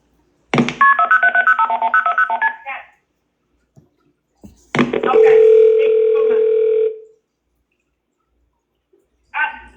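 Telephone dialing tones from a 911 emergency call recording: a rapid run of keypad beeps, then a long steady tone after a pause, with a short burst of tones at the end, loud and clear with no talk.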